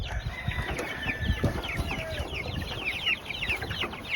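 Five-week-old chickens cluck and chirp in a steady, busy chorus throughout, close by, with soft rustling and movement underneath and no talking.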